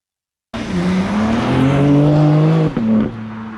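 A BMW M4 Competition coupe slides under power, its engine holding a loud, steady drone with shifting pitch as the throttle steers it, a brief dip near the end before the revs pick up again; no one speaks.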